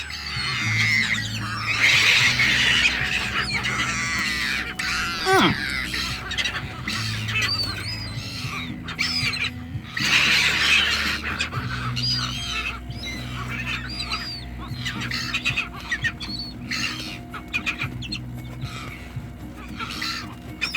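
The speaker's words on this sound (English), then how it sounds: "Hey, seagulls, behave." Seagulls squawking, calling and fighting repeatedly in bursts, near and fairly loud, over a steady outdoor background with no talking.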